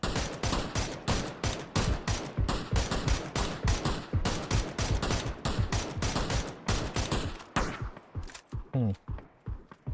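Dense, continuous gunfire in a ranked match of a shooter video game, loud rapid bursts from several weapons overlapping throughout, with players talking over the shooting.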